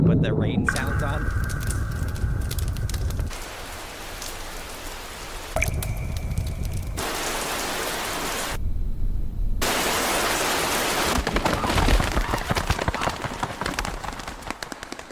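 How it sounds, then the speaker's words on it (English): Loud, steady rain plays as a constant broadband hiss for the whole stretch, shifting in character a few times, with a voice talking over it. "The rain is really loud."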